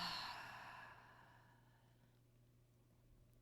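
A long, soft exhale during a guided breathing exercise, an airy sigh that fades gradually into near silence, close and quiet.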